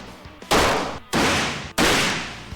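Guns fired on a shooting outing in rural country: three heavy, evenly spaced blasts, each with a sharp onset and a long roaring tail, loud and close.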